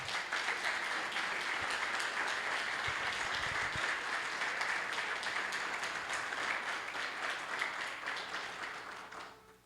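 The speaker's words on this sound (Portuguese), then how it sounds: "Aplauda o Senhor" A church congregation claps together in sustained, even applause that fills the room for several seconds before thinning out and fading at the end.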